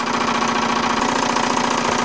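A Wilesco D20EL live steam engine runs steadily with a close, continuous mechanical chugging and hum, its rapid even rhythm unbroken and heard alone without talk.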